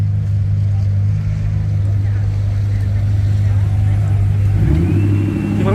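Ford GT in Gulf livery on the streets of Monaco, a deep, steady engine rumble with a slight rise in revs near the end, heard loud and close alongside a voice.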